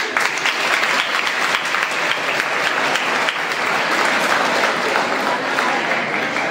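An audience clapping together in a hall, dense sustained applause filling the whole stretch at steady loudness, with a single word spoken briefly over it.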